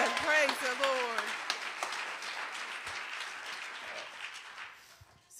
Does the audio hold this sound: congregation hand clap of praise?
yes